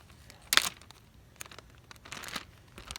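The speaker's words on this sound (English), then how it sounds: "Put it in one of our plastic bags." Plastic bag crinkling and rustling as a hand-plucked dove is put inside, one sharp loud burst near the start, then softer, scattered crackles and a second rustle later, close to the mic.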